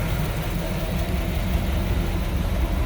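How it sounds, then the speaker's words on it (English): A 1976 Chevrolet Corvette coupe idles steadily and quietly, heard from the rear with a low, even engine rumble that stays smooth and subdued throughout with no revving. "Again, just idling nicely, very subdued"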